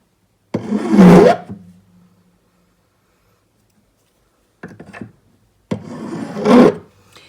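A hand file rasps against small metal heart earring pieces in a few separate scraping bursts with silent gaps between them, close and fairly loud.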